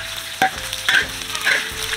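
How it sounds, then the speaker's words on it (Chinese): Garlic and small chili peppers stir-fried in a wok in a village kitchen: a continuous close sizzle broken by a few spatula scrapes and tosses, with no talking. "蒜头、小米辣进锅炒香"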